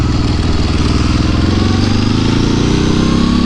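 A Ducati 749 motorcycle engine runs loud and close, a steady throbbing idle with a slight rise in pitch toward the end, and no clear start captured.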